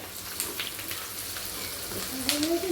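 Onion fries with fresh curry leaves in a pan, giving a soft, low sizzle with faint stirring, fairly quiet and close, with a brief tonal squeak near the end.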